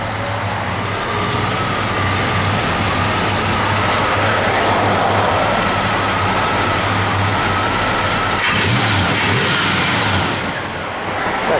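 A 1971 Pontiac LeMans Sport Convertible runs close by, its engine holding a steady, throaty idle and a low rumble that builds into a rev, then settles back down near the end.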